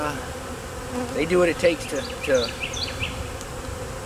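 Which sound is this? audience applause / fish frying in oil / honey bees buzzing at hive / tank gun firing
honey bees buzzing at hive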